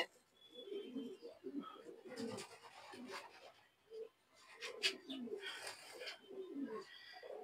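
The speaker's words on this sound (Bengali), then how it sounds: "দেখি মাদি কবুতর, এটা একটা মাদি কবুতর," Soft, low coos from a moulting female pigeon in a loft repeat near the microphone, mixed with rustling and scraping sounds and brief bursts of hiss.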